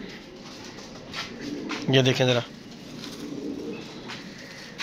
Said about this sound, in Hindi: जोड़ों वाले कबूतर हैं सारे के सारे